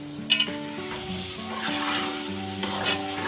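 Kali tori sabzi curry with fresh coriander being stirred in a handi pot: a steady sizzle with scraping and clinks of the spoon against the pot, close and continuous, with a low background hum.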